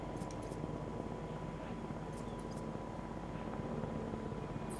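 Helicopter in the dinosaur park game Jurassic World Evolution, a steady droning rotor hum filling the whole stretch at moderate level, with faint game chirps on top and no talk.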